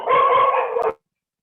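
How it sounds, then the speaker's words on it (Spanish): Small dogs bark in an excited flurry of several quick, overlapping yaps, fairly close and loud, stopping abruptly after about a second. "se alborotaron los perritos"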